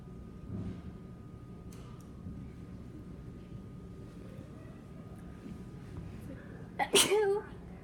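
One sudden loud sneeze close by, preceded by several seconds of quiet room sound with faint movement.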